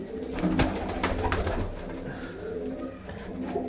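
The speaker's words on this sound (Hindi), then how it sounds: "ये चालीस कबूतर है ठीक है भाई आप देखोगे तो कबूतर एक से एक है" Punjabi Malwai pigeons coo softly and repeatedly from close by, their low throaty calls running continuously over faint background noise.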